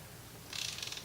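Torque wrench tightening a cylinder head bolt on a 1996 Honda Accord, giving a faint, brief burst of rapid ratcheting clicks close by, heard alone in a quiet workshop.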